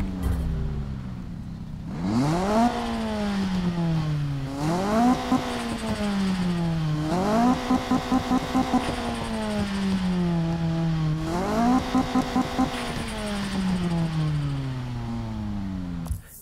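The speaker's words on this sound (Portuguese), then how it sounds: "Sente o ronco desse motor," A car engine in the video game Need for Speed (2015) roars and revs repeatedly, climbing in pitch then dropping as gears shift, loud and steady with no talking.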